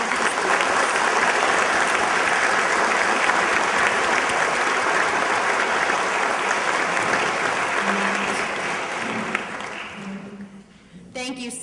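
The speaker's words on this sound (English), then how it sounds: "Would you all join me in giving a warm applause to all of these leaders?" Sustained, loud applause from a conference breakfast audience at a childhood obesity summit, a dense steady wash of clapping that tapers off near the end as a voice begins.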